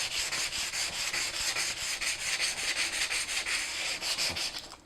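Sandpaper of 320 grit rubs by hand across a wooden pinball playfield, close and steady, with quick rhythmic back-and-forth strokes repeating without pause.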